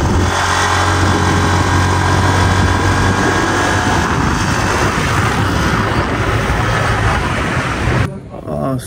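Yamaha MT-09 motorcycle ridden through Phuket streets at night, its engine droning loud and steady with wind rush for about eight seconds before cutting off abruptly.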